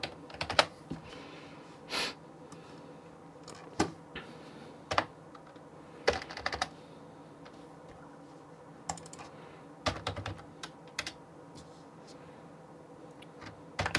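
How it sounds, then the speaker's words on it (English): Keys tapped out in a quick scattered series of sharp clicks while entering a calculation on a calculator, close and moderately loud with pauses between bursts over faint background hiss. "So typing into your calculator,"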